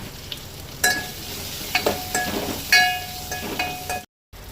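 Chopped onions are tipped into a hot tempering for sambar and sizzle in uneven bursts, with stirring clatter on top. The frying swells several times, then the sound cuts off abruptly near the end.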